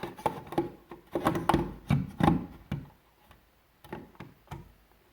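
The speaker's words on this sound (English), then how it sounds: "it should slide into position, and you should hear a little bit click" A plastic carbon monoxide alarm is slid onto wall-mount screw heads, giving a run of small sharp clicks and taps in quick uneven bursts, then a pause and a few more, close and fairly quiet.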